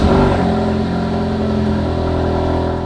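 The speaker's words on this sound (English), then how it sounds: "So let's start it up. Exhaust is on loud mode." A Ford Focus RS engine starts with its exhaust in loud mode, a deep, throaty rumble, strong at first and then settling into a steady idle.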